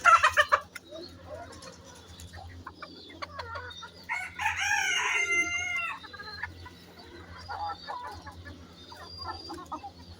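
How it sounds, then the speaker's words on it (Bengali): Domestic desi chickens cluck close by, and a rooster crows loudly in the middle, with a steady low hum underneath. "দেখেন এগুলো আমার দেশি মুরগি"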